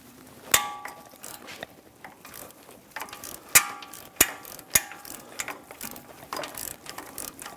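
A ratchet breaks a starter bolt loose on a Ford E-350 Super Duty 5.4L V8, with quick clicking runs and several sharp metallic clanks, close and fairly quiet.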